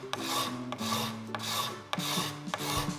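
A card scraper is pushed across a rough wooden board in five or six steady, close, rasping strokes, each a breathy scrape separated by brief pauses.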